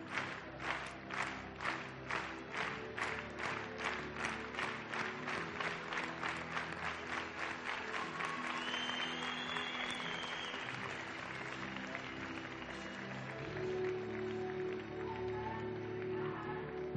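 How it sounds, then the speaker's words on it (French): An audience at a dance competition semi-final applauds the couples, a dense, quick clapping that stays steady for several seconds and then tapers into scattered claps and murmur. "on pourrait tous les applaudir, tout simplement"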